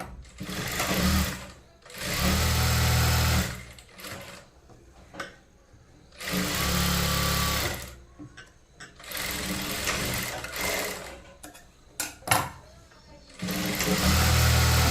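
A sewing machine runs the final seam on a blouse in several loud bursts of fast stitching, separated by pauses where a voice speaks.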